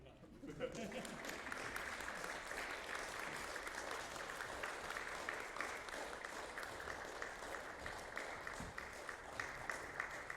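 Audience applause fills a lunchtime concert by the London Serenata, a steady wash of many hands clapping at even loudness from start to finish, with no pause or swell.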